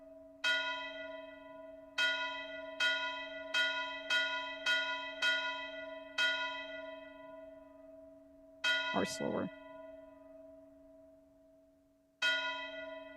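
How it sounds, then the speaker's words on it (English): Bell strikes with a long reverb tail in a game audio prototype, rung in an irregular series that speeds up and then slows, each tone ringing out clearly, with a brief spoken comment in between. "maybe I want this bell to go like ring faster"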